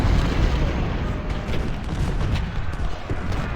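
Dense, continuous rumble of cannon and artillery fire from a Civil War battle in Ultimate General: Civil War, loud and sustained with overlapping booms and no clear gaps.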